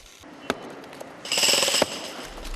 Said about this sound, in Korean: 작업장에 망치 소리가 울려 퍼진다.